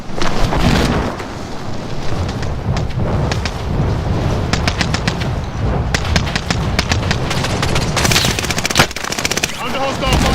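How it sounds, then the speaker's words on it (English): Loud, dense gunfire in a shooter video game, sustained automatic bursts and rapid cracks rattling almost nonstop over a rumbling battlefield din, with a voice speaking briefly at one point. "Under hostile fire."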